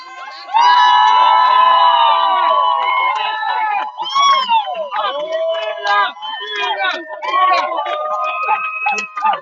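A crowd shouts, whoops and cheers loudly at the finish of the 2022 TWAC race. The cheering is sustained at first, then breaks into bursts of scattered, excited voices.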